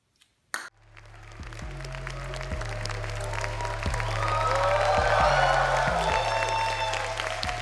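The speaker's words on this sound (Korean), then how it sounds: "스크린 다 올라갈 때까지 박수를 좀 쳐주셔야 될 것 같습니다." Audience applause at a stand-up comedy show swells and builds steadily into sustained clapping, accompanied by a repeating low musical beat, after a couple of brief knocks at the start.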